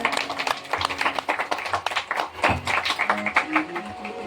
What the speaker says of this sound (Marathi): कृपया सर्वांनी जोरदार टाळ्या वाजवा